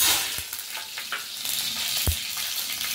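Paneer fries in oil in a kadhai, with a loud continuous sizzle and a few sharp stirring knocks against the pan, no talking.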